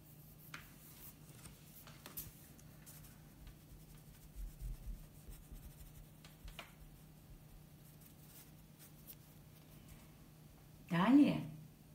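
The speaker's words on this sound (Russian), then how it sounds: "Далее простым карандашом нарисуем короткие риски, штришки, изображающие мех" A plain graphite pencil scratches short hatching strokes onto paper while sketching a cat's fur. The faint, soft scraping repeats quietly, with a brief louder rub near the end and possible low talk in the background.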